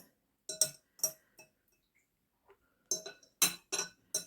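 A spoon clinks against a bowl while date cake batter is stirred, a few sharp taps in two separate bursts with a quiet pause between them.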